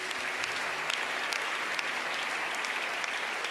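A church congregation claps and cheers for the Lord, a dense sustained wash of applause from many hands filling the room throughout.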